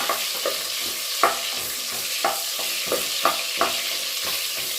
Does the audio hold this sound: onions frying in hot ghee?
yes